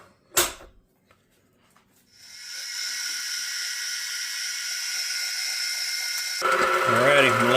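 An electric mixer whirs steadily while beating tamale masa for smoked brisket tamales, a constant high whine that starts after a brief clatter and runs to the end, where a louder mixing churn joins.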